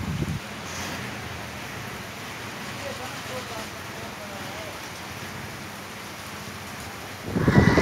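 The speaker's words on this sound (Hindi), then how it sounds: "बहुत ज़्यादा तेज़ बारिश है।" Heavy rain pours down with strong wind while travelling, a steady, dense roar that stays level throughout and swells louder near the end; no clear speech stands out.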